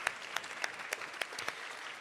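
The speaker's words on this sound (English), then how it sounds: "And lastly, a big round of applause for all of you." Applause at an awards event, a fairly faint, even round of clapping from a gathered crowd, with a few louder individual claps punctuating the steady patter and no talking heard.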